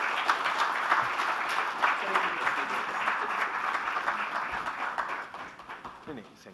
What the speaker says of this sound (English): let's have a louder round of applause, everybody